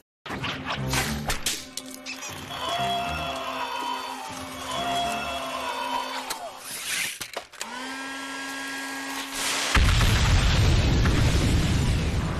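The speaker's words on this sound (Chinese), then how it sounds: "而小花不愧是年轻人，他是又快又狠，直接一把照药把房子都给你炸了，里面的上亿美金顷刻间化为灰烬" A house is blown up with explosives in a film scene, giving a loud, dense roar of blast and rumble, with tonal score-like hums underneath. A heavy, noisy burst swells toward the end.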